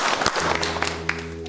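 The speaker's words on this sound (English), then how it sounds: "Give yourselves a round of applause" Audience applause at a Derren Brown stage show, a dense, steady wash of clapping across the whole moment over a low constant hum.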